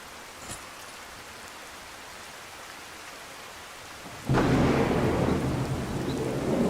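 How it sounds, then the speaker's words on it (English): A rumbling thunderclap breaks over steady rain in a modded Skyrim game, arriving suddenly as a loud, deep roar after several seconds of quieter rainfall. "A terrible storm coming in here."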